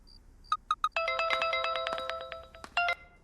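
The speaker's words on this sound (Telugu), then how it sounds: "నాన్నకు ఫోన్ వచ్చిందిరా." A telephone rings with an incoming call: a few short beeping tones, then a bright melodic ringtone phrase that plays on, with no one speaking.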